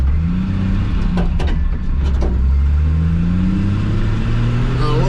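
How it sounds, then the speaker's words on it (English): A 1968 Chevrolet C10 pickup with a manual transmission and soft brakes revs up as its tires give a couple of brief, sharp chirps over the rising engine drone, heard close from inside the cab. "A little chirp out of the tires there."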